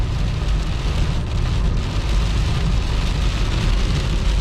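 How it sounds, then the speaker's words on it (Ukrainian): Heavy rain pours steadily over a car driving to a fishing spot near Vancouver, Canada, a dense continuous wash of rain noise with low road rumble underneath, loud and unbroken, with no talking. "Просто дощ заливає"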